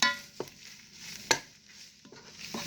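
Leftover chicken parm is reheated and stirred with a spoon in a Ninja Foodi: a soft sizzle sits under a few sharp scraping clacks of the spoon against the pot.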